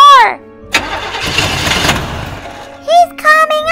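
Car engine cranking and catching in the Roblox Bloxburg game, a broad burst of noise that settles into a steady running hum, with excited voices talking before and after.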